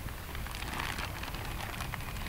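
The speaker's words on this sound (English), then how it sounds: "it's starting to rain" Rain beginning to fall on a farm, a steady broadband patter of drops close by, continuous and fairly quiet with no voices.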